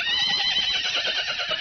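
A horse neighs loudly and close on a quiet mountaintop, one long shrill whinny filling the moment on its own.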